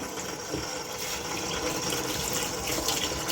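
Tap water gushes steadily into a sink while muddy wild saffron milk cap mushrooms are rinsed, a close continuous splashing flow with no talk.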